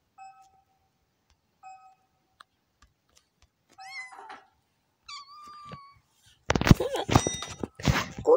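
Cat meows from the Cats are Liquid video game: a few short, clean electronic beeps, then several sliding mews in a row, followed by a loud, busy jumble of game sounds at the end.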